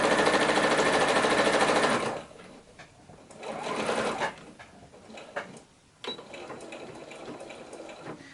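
A sewing machine runs in a steady rapid stitching burst for about two seconds, then gives softer intermittent runs and handling noises, stitching binding onto a quilted project.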